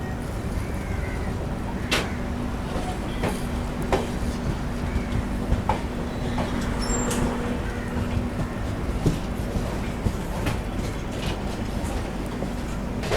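A Duronto Express train pulls out of Madgaon Junction, heard from inside as a steady rumble with faint rhythmic clatter over the rails and occasional squeaks, with no talk.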